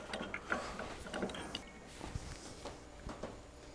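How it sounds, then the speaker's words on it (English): A pipe wrench tightens a regulator onto a welding gas cylinder, making faint, close metallic ratcheting clicks and scrapes at an irregular pace. "I'm just using a pipe wrench for it."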